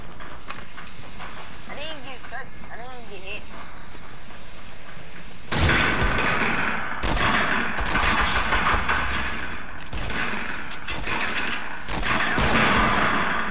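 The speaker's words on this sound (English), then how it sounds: "Oh, I'm being shot at." Gunfire in the Fortnite video game crackles in rapid, dense bursts after a quieter opening, mid-loud and continuous through the second half, with a player talking over it.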